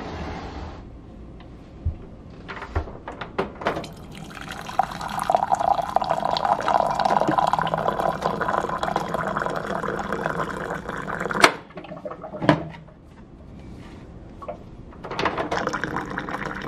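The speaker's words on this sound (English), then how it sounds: "Okay, so now we're gonna pour hot water in this." Hot water pours into a ceramic mug in a steady, rising gurgling stream that lasts several seconds, with a few clinks and knocks around it and a brief pause before more handling sounds.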